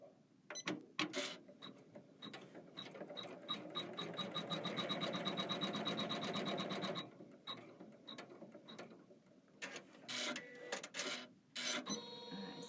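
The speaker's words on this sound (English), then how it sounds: "So this will be step 3 on your machine and step 3 on your instruction book." A Kimberbell embroidery machine stitches a design layer, its rapid needle chatter building into a long steady run, then breaking into short stop-start bursts and clicks, close and with no talking.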